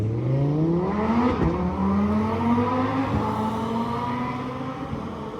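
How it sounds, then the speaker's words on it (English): A Lamborghini Aventador engine whines high and steady, likely from a racing video game, pitch climbing and dipping through gear-like sweeps, continuous and fairly loud with no talk. "nothing whines like that Aventador whines"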